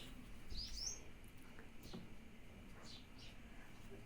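Baby birds kept indoors with adult birds let out a few thin, high chirps, one clearer near the start and fainter ones after, over quiet room noise.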